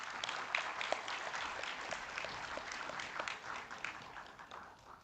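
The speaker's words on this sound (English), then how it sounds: "can we give them a round of applause, please?" An audience at a climate governance summit claps in a steady patter of many hands, moderately distant, gradually thinning toward the end.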